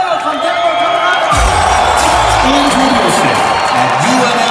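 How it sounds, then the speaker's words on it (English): A large convention audience at an arena claps and cheers loudly in a dense, continuous wash of applause, with whoops rising over it and a voice speaking through the noise. "Can we all give a massive round of applause"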